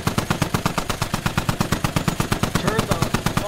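Rapid, steady automatic gunfire from the military simulation game Squad, a continuous burst of closely spaced shots at a regular rhythm, loud and sustained throughout.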